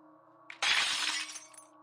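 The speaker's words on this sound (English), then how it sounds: "Somewhere upstairs, glass shattered. Not a cup, but a window." A large window shatters somewhere in a house, a brief sharp crack followed by a loud, dense spray of breaking glass that rings on for about a second over a low steady hum, then fades.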